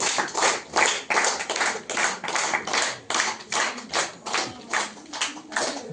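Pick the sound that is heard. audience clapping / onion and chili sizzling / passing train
audience clapping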